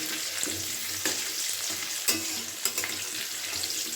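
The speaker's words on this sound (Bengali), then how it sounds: "একটু সামান্য হলুদ দিয়ে দিচ্ছি আলুটাকে ভালো করে লাল লাল করে ভেজে তুলে নেবো" Potato pieces with a little turmeric frying in hot oil in a wok, a loud, constant sizzle broken by sharp clinks and scrapes of stirring.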